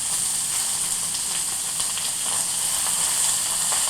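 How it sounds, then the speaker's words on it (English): Onions and peppers sauté in a skillet with a steady, broad sizzling hiss that holds at an even level throughout, close up and without talk. "Onions and pepper in a skillet drives people crazy."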